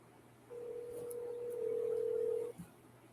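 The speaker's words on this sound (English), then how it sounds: "Can you hear the phone ringing?" A single long electronic phone tone sounds steadily for about two seconds over faint line hiss, then cuts off with a brief click.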